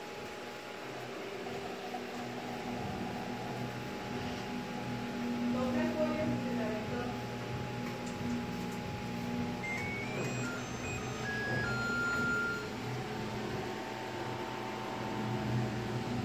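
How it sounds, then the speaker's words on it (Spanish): Cooling fan of an LG smart inverter microwave oven keeps running after use, a steady close whir with faint mechanical hum and a few light high clicks and beeps, no talking. "Se quedó el ventilador prendido."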